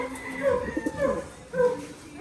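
Racing pigeons kept as flyers cooing nearby in a few soft, throaty, rolling coos with short gaps between them.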